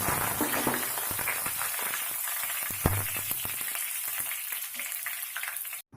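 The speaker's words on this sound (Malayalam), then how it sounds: "കറിവേപ്പിലയും വറ്റൽമുളകും ഇട്ട് കൊടുക്കാം." Curry leaves and dried red chillies sizzle in hot oil while a wild lime pickle is being cooked, a steady close crackle broken by a few sharp pops and stirring clatter, with no talking.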